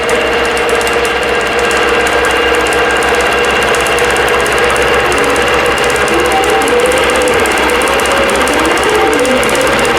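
A computerized embroidery machine stitching out small design elements, a loud steady mechanical hum and rapid needle chatter running continuously without pause, no talking over it.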